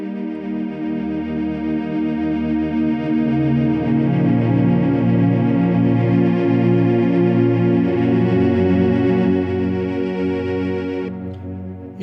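An Akai AX80 synthesizer plays basic preset sounds, a sustained chorused chord pattern with a rich, slightly distorted tone that repeats in a steady rhythm for about twelve seconds before cutting off near the end.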